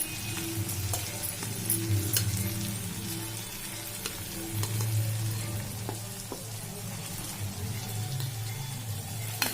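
Cooked rice goes into a pan of frying vegetables and peas for veg fried rice. A continuous close sizzle runs under scattered light clicks and scrapes.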